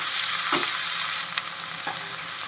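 Coconut poha (flattened rice) being stirred in a hot pan, a continuous frying hiss with a few soft scrapes of a spoon against the pan, no talk.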